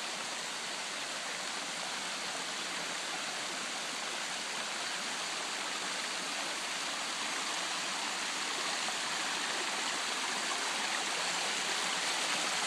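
Natural waterfall on a creek tumbling over bedrock, a loud, steady broadband rush of falling water that holds constant throughout with no voices.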